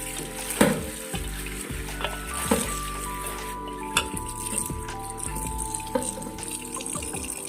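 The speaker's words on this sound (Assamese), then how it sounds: "মাছখিনি এতিয়া মই ভাজি লওঁ" Fish frying in oil for an Assamese home-style lai xaak (mustard greens) and fish curry, a steady sizzle with periodic clinks and scrapes of a utensil against the pan, close by with no talking.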